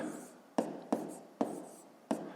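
Handwriting a math expression for a fifth-grade exercise: four quiet, close pen or chalk strokes, each starting with a sharp tap and trailing off in a soft scrape.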